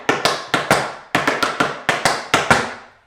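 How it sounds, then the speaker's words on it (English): Tap shoes rap out triple time steps on a hard floor, a rapid run of sharp ringing strikes in clustered syncopated groups, close, loud and unaccompanied by speech. "that leads you into 2 triple time steps."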